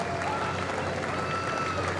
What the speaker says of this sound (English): It's great to see both crews getting cheered on and clapped by the crowds